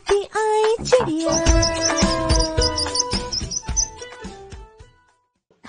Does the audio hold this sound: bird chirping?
yes